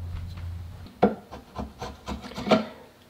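Close rasping strokes on a wooden gun stock as material is filed away, uneven scraping bursts with pauses between them and no talk.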